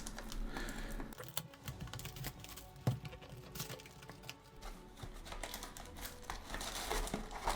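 A Flesh and Blood Dynasty booster pack wrapper being torn open, a quiet, steady stream of close crinkling and rustling foil with small clicks and no voices.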